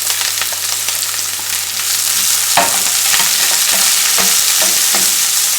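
Green chillies sautéing in a pan for poha, a steady close sizzle of frying with a few spatula stirs scraping through it, no voices.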